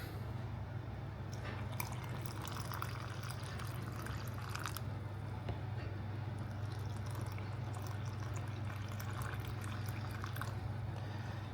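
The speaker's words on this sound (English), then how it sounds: "we're just going to add in boiling water from said kettle" Boiling water poured from a kettle into a powdered Ninja Creami ice cream mix, a thin steady trickle with scattered drips over a low background hum, no talking.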